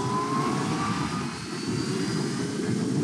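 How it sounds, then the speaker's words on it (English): Supercharged motorcycle engine roaring under an opened throttle, a dense, steady high-pitched whine and rumble held loud and close for about three seconds with no talking. "there's the other thing about the supercharger, and that is when you open the throttle, it does this"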